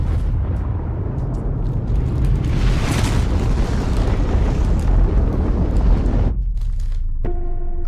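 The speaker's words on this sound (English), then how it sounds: "Secret footage of its 1961 detonation." A massive roaring blast from the 1961 Tsar Bomba nuclear detonation fills the clip, a loud, sustained rumbling surge that swells midway and then cuts abruptly to quiet, followed by a faint tone.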